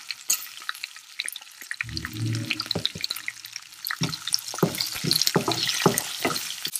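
Ginger, peanuts, green chili and asafoetida sizzle and fry in a hot pan for lemon rice, with a spoon scraping and stirring through the oil in irregular bursts, close and fairly loud.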